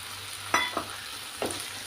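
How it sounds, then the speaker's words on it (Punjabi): Green peas frying over full flame in spiced oil in a wok, a soft background sizzle broken by a few quick scraping stirs, close and fairly quiet. "ਮਟਰਾਂ ਨੂੰ ਅਸੀਂ 2 ਮਿੰਟ ਫੁੱਲ ਫਲੇਮ ਤੇ ਇਸੇ ਤਰ੍ਹਾਂ ਹੀ ਭੁੰਨਾਂਗੇ"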